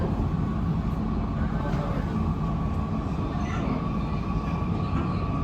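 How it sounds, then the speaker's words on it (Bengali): An elevated MRT metro train running along its raised line, a loud continuous rumble and hum heard steadily from inside the carriage. "ট্রেনটি যখন উপর লাইন দিয়ে চলছিল"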